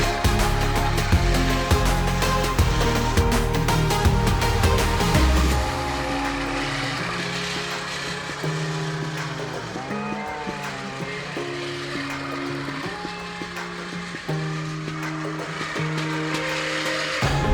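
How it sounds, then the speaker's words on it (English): A lawn mower makes a first pass over a newly grown lawn. A loud, steady engine drone runs throughout, rising and dipping slightly in pitch as the load changes. "So we're just going to go ahead and do our first mow and see how it looks afterwards."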